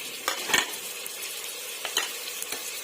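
Tomatoes and green chillies fry in hot oil for chicken biryani, a soft crackling sizzle broken by a few sharp spoon-on-pan clinks, close and without speech.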